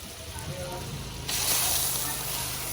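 Butter sizzling steadily as it slowly cooks down into ghee in a pot over a low wood fire, a continuous soft frying hiss that grows louder partway through, with no talking.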